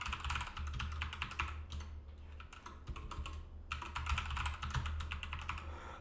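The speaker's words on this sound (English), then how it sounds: "And now I'll enter the password that I did." Password being typed on a computer keyboard, a quiet close clatter of quick keystrokes in two bursts separated by a short pause, with no talking.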